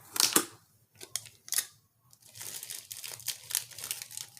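A shrink-wrapped package with a piece of tape is handled up close, giving sharp plastic crinkles and crackles in quick bursts with short quiet gaps, then steadier rustling.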